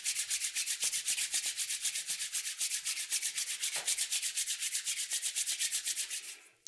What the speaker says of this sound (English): start rubbing your hands together.